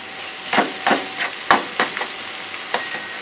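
A spinach omelette of egg and spices is stirred in a hot pan: a soft sizzle runs under about seven scraping spatula strokes, close and fairly regular, with no talking.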